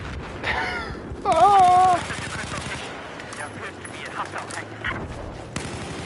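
Gunfire and explosions from the video game Battlefield 4 fill the clip with dense, continuous broadband blasts. A rising tonal whine cuts through early on, and faint voices sit underneath.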